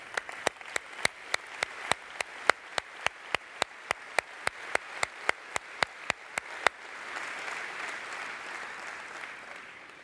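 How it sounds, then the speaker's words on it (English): A conference crowd at a SolidWorks World 2014 general session claps steadily with sharp, evenly spaced claps standing out up front, then the clapping blurs into a softer, dense wash of applause before fading. "give them a big old round of applause"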